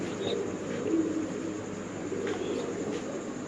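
Spanish pigeons at a pigeon farm coo softly and repeatedly nearby, low rolling calls with a few faint chirps in the background and no voices.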